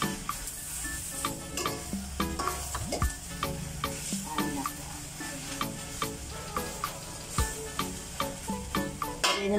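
Canned sardines sizzle in a frying pan while a utensil stirs and scrapes at them in a steady rhythm of sharp clinks, close and fairly quiet, with no talking.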